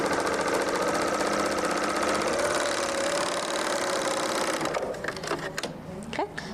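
A Bernina L890 sewing machine stitches in a fast, steady mechanical whir close by, then slows and stops near the end as a voice begins speaking.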